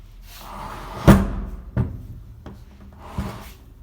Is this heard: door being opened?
yes